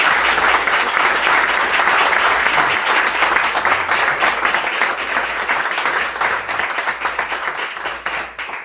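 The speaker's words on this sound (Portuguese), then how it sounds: "nós possamos pelo menos dar uma salva de palmas para o Senhor Jesus Cristo." A church congregation gives a loud, sustained round of applause at a New Year's service held at a rural site, steady dense clapping that slowly thins toward the end.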